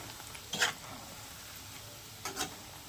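A spoon stirs masala powder into Godavari-style chicken pickle in two brief, quiet scraping strokes about two seconds apart, with near silence between them.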